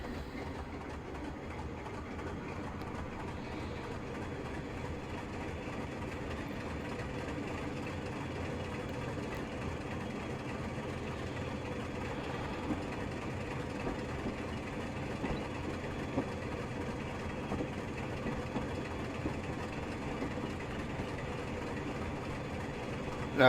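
A Class 25 diesel locomotive pulls away from Edinburgh Waverley in Train Simulator Classic, a low steady engine rumble with faint rolling rail clatter running continuously and fairly quietly throughout.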